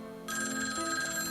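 Old black telephone ringing, a sudden shrill continuous bell-like electronic ring starting abruptly and holding steady over a soft background tone.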